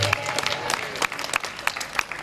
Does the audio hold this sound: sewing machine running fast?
no